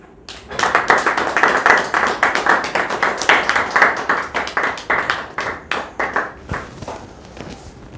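An audience claps after a candidate's political speech in the 2023 presidential campaign. The clapping is close and loud, made of sharp individual claps from a modest group, and it tapers into scattered last claps before a brief pause.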